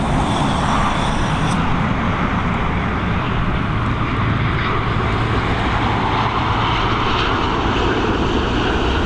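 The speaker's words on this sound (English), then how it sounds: "RK287 of this Ryanair flight coming in from Stansted. It's a Boeing 737" A Ryanair Boeing 737 landing at Dublin Airport in the evening, its jet engines giving a loud, steady roar that fills the whole stretch without a break.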